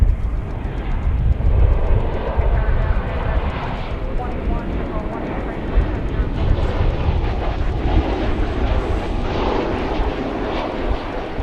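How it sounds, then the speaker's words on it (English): An Airbus A321neo airliner, American flight bound for Phoenix, takes off at Dallas–Fort Worth airport with a loud, sustained engine roar that holds steady through the whole stretch, broad and rumbling, with people talking faintly underneath. "That was American Flight 1015 off to Phoenix, Arizona, an Airbus A321neo."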